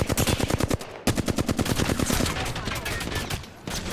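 Rapid automatic gunfire in the video game Apex Legends, tight bursts of shots with a brief gap before another long burst, loud and close.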